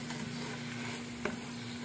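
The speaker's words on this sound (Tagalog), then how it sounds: "hayaan lang natin muna siyang mag-stir" Meat sizzles with onions, garlic and tomatoes in a pan for Mongolian barbecue, a soft steady frying hiss with a faint scrape of stirring near the end, quiet and close.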